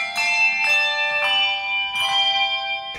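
Handbells rung by hand, four separate clear metallic strikes spaced unevenly, each ringing on with a long shimmering decay, close and loud with no voices.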